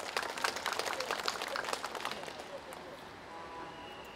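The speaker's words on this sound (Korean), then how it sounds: "다시 한번 뜨겁게 박수 한번 주십시오" Faint, distant applause from an audience at a unification lecture and charity performance in Incheon, a busy patter of claps that thins out and fades over the last seconds.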